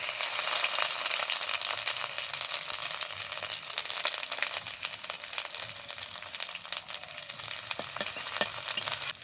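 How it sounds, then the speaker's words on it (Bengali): Whole garam masala, dried chilli and whole cumin fried in hot oil as a tempering, sizzling loudly and continuously up close with occasional stirring scrapes and pops, and no voices. "এবার ফোড়নটাকে একটু খুব ভালো করে ভেজে নেব।"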